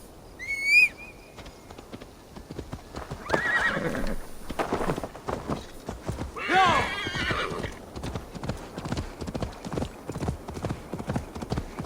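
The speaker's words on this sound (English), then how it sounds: "Probably just call my horse." A horse in Assassin's Creed Valhalla gives a sharp whinny, then its hooves clip-clop in a quickening gallop with loud snorting bursts, continuing steadily to the end.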